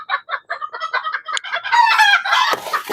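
A hen with fresh eggs clucks in a quick run of short, close calls that swell into a louder, drawn-out squawk.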